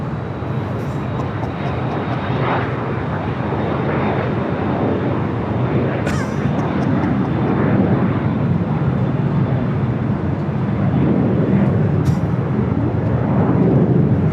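Airplane engines at Los Angeles LAX airport, a loud continuous roar and rumble that swells steadily, heard from nearby with brief people talking mixed in.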